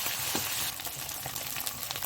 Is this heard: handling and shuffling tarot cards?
no